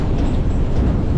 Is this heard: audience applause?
no